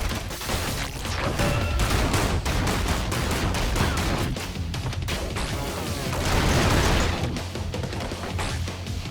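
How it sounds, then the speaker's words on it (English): Rapid, repeated sharp blasts from a mini boss firing projectiles in ScourgeBringer rattle on almost without pause, loud and close, swelling in intensity partway through, set against driving game music. "Avoid his projectiles."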